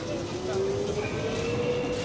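Modern tram running through Lviv, a continuous rumbling roll with a thin, sustained wheel or motor whine, heard close under a voice speaking.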